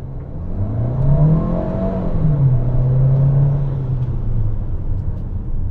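A Chery Tiggo Cross Turbo SUV accelerates hard from a standstill, its engine note rising and holding in a loud, close, steady drone with no talking.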